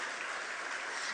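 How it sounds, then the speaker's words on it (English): Applause fills the air at a PNM political public meeting in Trinidad and Tobago, a steady wash of clapping from the crowd with no pauses and no voices. "Let us give ourselves a round of applause."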